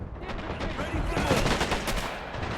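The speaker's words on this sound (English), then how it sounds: "Their machine guns are going to do a great job against them" Dense, continuous machine gun fire from the video game Men of War: Assault Squad during an Iwo Jima airfield battle, overlapping bursts forming a loud, unbroken rattle of gunfire.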